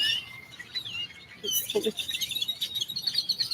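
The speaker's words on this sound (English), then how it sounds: "There's a bird eating my cheese that I dropped." Small birds chirp and tweet in short, bright calls while one eats dropped cheese, close by and fairly clear, with a brief thud and rustle partway through.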